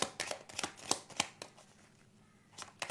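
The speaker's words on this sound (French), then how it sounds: "je vais aller la recouvrir moi cette carte des chemins croisés" A tarot card laid down over another during a reading, giving a series of soft, dry card slaps and slides, one every half second or so, close and fairly quiet with short pauses between.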